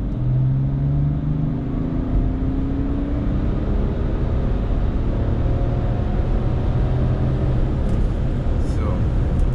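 BMW X3 F25 35d with the N57 diesel engine and a Pipercross sport air filter, pulling in fourth gear from about 2000 rpm, a steady loud cabin drone with a low rising engine tone and road rumble throughout.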